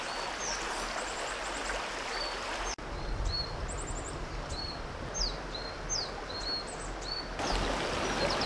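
River stream flowing in a steady broadband rush, with small birds chirping faintly above the water sound and no talking.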